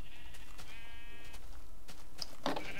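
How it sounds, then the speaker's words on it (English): Sheep in the Minecraft video game giving a few wavering bleats against a steady background hiss, followed by short sharp hit-like sounds. "Okay, let's kill these sheep."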